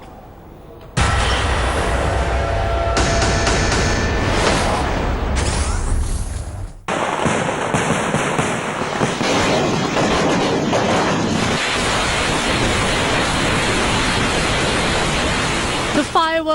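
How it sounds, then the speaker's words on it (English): Fireworks detonating at the Kollam temple disaster, a loud, dense roar of blasts and rumbling booms that runs nearly continuously after a sudden start, with one brief break before the barrage resumes. "The images of the fireworks that took more than 100 lives have been accessed by India Today."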